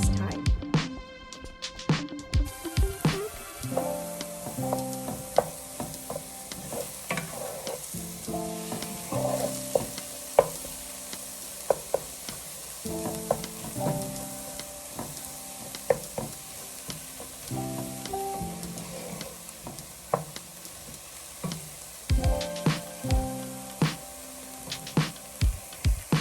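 Diced onions sweat in a frying pan with a continuous close sizzle, while a utensil stirs and scrapes in frequent irregular clicks and a voice talks at times.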